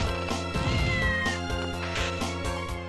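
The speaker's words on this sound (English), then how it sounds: "Why is there a fucking cat meowing?" A cat in Castlevania: Order of Ecclesia on the DS meows repeatedly in drawn-out cries, fairly loud, over a steady rhythmic game music track.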